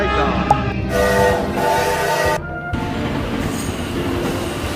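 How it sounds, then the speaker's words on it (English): A Vietnamese passenger train on the new Hanoi to Saigon service rolls past at close range, its wheels rumbling with a steady clatter and brief squeals and whines over the noise, loud throughout with a short dip midway. "a new train service, a train that goes from all the way from Hanoi to Saigon."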